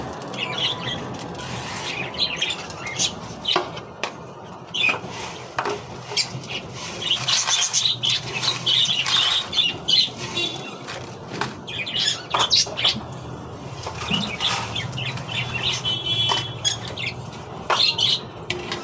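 Pet cockatiels and parakeets squawk and chirp at close range in repeated bursts, with wing flutters and rustling around them.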